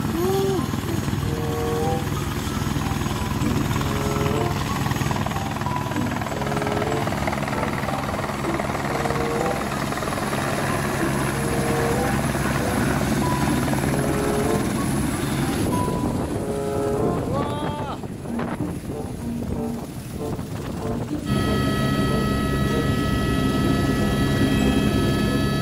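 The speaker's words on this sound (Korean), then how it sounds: "이게 우리가 탈 헬기가 오고 있는 모습입니다." In New Zealand, a helicopter approaches to pick up passengers, its rotor thrum loud and continuous throughout, with wind buffeting the microphone.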